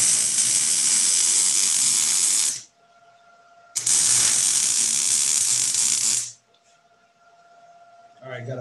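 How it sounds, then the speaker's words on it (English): Welding on a spangenhelm helmet: two long, loud bursts of harsh, sizzling hiss, each a few seconds long and broken by quiet gaps with a faint steady hum. "got a few more welding spots to do, Sean."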